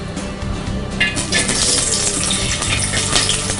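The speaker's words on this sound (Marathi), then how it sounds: "पहिल्यांदा तेल टाकते. त्याच्यानंतर मी आता कांदा टाकते." Onion drops into hot oil in a pan for an Agri-style dish from Kopra village, Mumbai, a loud continuous hiss and sizzle that flares up after a moment and holds steady.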